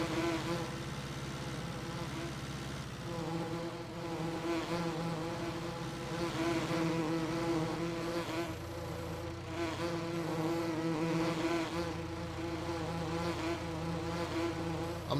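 Bees buzzing around a hive in the Farming Simulator 19 video game, a steady faint droning hum with overlapping wingbeat tones and no voices.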